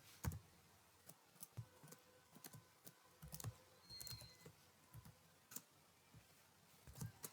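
Fairly faint, irregular keystrokes tap on a computer keyboard while code is typed, single clicks and quick clusters spread steadily with no voices.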